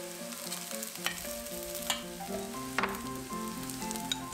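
Rice sautés in a pan with a soft steady sizzle and several crisp stirring scrapes. Background music plays throughout, and nobody speaks.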